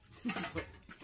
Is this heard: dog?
yes